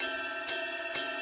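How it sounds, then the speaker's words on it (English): A Turkish cymbal is struck twice on the bell, giving bright, ringing pings about half a second apart over a continuous shimmering ring. It is close and alone, with no talking. "It's one cymbal, and I love to use the bell."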